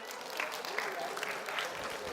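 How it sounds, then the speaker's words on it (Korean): Audience applause at a Korean university admissions seminar lecture, a short burst of steady clapping from the crowd, close and moderately loud. "박수 한번 쳐주세요."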